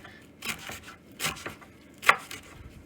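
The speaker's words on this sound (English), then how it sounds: "we are going to hack up some of this parsley" A knife chopping a bunch of fresh parsley on a cutting board, a few separate soft thuds and one sharper knock spaced across a couple of seconds, close and fairly quiet with no talk.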